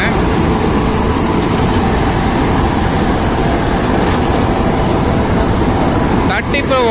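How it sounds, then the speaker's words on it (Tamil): A John Deere 5310 tractor-mounted harvester working through a white country corn field, giving a loud, continuous broadband roar of engine and machinery, steady throughout. "இந்த ஹார்வெஸ்டர் ஆப்ரேட் பண்ணிட்டு இருக்காங்க"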